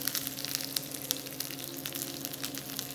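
Asparagus frying in vegetable oil in a hot pan, a steady close sizzle with dense crackling spits and pops running throughout, no voices.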